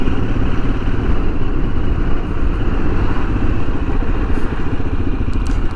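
A Royal Enfield Himalayan motorcycle rides around town, its single-cylinder engine a steady loud rumble throughout with a continuous low throb and road noise, no speech over it.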